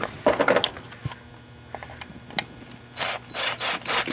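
Cordless screwdriver working on a 2002 Honda Civic power window switch: a few short mechanical clicks and ratcheting, then several brief whirring motor bursts near the end, close and moderately quiet.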